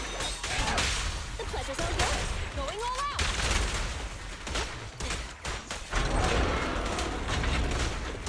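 Enemy gunfire in Zenless Zone Zero rattles in repeated bursts amid mechanical clanks and whooshing combat effects, loud and busy, with intermittent voices over the fighting.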